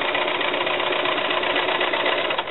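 A sewing machine runs a steady straight stitch around the inside of a serged seam on fabric, a continuous close mechanical whir with a fast even rhythm throughout, with no talking.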